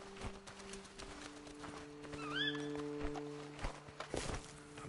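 Horses walk with soft, steady hoof clip-clops in the Red Dead Redemption video game, with a brief faint whinny midway over a low quiet background.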